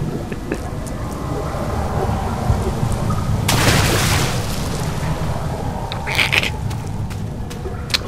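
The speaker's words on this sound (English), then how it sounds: "I'd be very surprised if you can't hear that rain." Steady rain hiss fills a dark scene in the horror game Amnesia, with a loud rolling thunder swell in the middle and brief bright crackles near the end.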